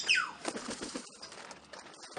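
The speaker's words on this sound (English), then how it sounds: "I've been completely taken over by parrots" Parrots squawk close by on a balcony with a sharp call at the start, mixed with fluttering and rustling wing flaps.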